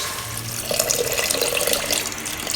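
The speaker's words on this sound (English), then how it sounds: "You need to add water. How much water? Basically it's just to cover up the ribs." Water pours steadily into a pot of Chinese braised pork ribs with broth, a close, continuous splashing stream that grows slightly fuller partway through.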